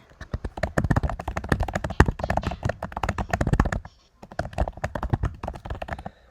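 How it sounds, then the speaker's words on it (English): Rapid clattering keystrokes on a Mac computer keyboard, typed in quick irregular bursts with a short pause midway, close and fairly loud with no voices over it. "I'm typing something"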